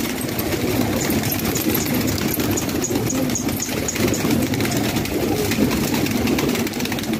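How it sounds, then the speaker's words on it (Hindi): Pigeons, a flock of around 200 kept for pigeon racing in Layyah, coo in a dense, steady low murmur as they emerge, with a continuous hum running underneath. "ये अब कबूतर बाहर आ रहे हैं"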